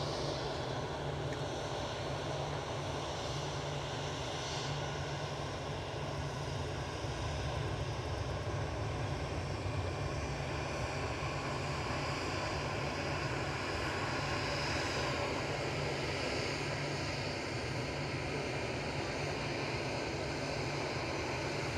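A Gulf Air Boeing 787-9 Dreamliner at Manchester Airport makes a steady, loud broadband roar of engines that holds evenly throughout, with no voices.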